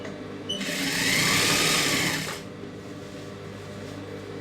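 A sewing machine stitches a rolled hem on a silk skirt, giving off a near, steady whirring run of about two seconds before it winds down into quiet background hum.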